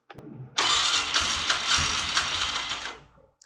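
Engine of a 2002 Polaris Sportsman 400 ATV, cold and on choke, cranks briefly and then catches, running rough and loud at a fast idle before it drops off near the end.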